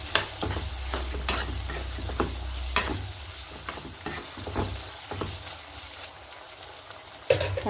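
Prawns fry in ghee with salt while a spoon stirs them in the pan: a steady close sizzle broken by repeated scraping, clattering stirs at irregular intervals, with no talk.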